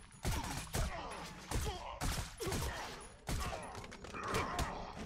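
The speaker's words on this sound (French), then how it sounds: "je vais utiliser plus le pistolet." Pistol gunshots in the 3D beat'em up video game Redeemer: a handful of sharp, loud reports spaced irregularly about a second apart, each with a short rumbling tail.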